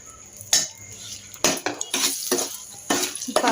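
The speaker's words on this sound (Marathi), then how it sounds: "आता आपण तूप टाकून थोडंसं भाजून घेऊया अजून" A spatula scrapes and stirs semolina (rava) roasting in ghee in a pan for shira, making repeated close, loud bursts of scraping with a faint background hiss and no talking.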